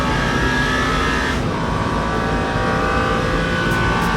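Race car in Le Mans Ultimate on the 24 Hours of Le Mans circuit, its engine droning loud and continuous as it accelerates, with layered harmonic tones and no voices.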